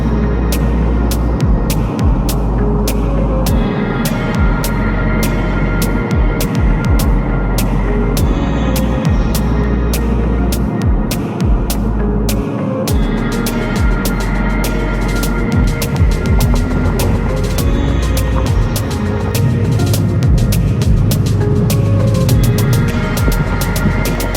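A steady low engine and road hum fills the cabin of a car driving through busy traffic out of Winfield, continuous and fairly loud, with no one talking.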